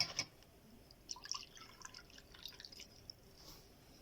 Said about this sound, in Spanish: primero, agregamos agua en el recipiente